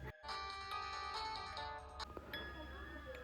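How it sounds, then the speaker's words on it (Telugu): A phone ringtone plays, a repeating electronic melody close by, with brief clinks and a voice near the end. "ఇప్పుడెవడే ఫోన్ చేస్తున్నాడు?"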